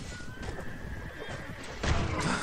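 A horse neighs in a Mount & Blade Warband mod battle, a short whinny over battlefield clatter and hoofbeats, ending in a louder burst, with a voice speaking faintly beneath.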